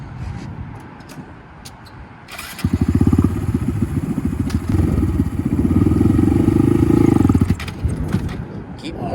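A Honda Grom motorcycle engine idles, then revs up loud and close for several seconds under steady throttle before easing off, with a voice coaching the rider nearby.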